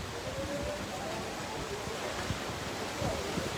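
Strong typhoon wind in Cebu roaring as a dense, steady broadband rush with gusty surges and faint low thumps, constant throughout and loud near the microphone.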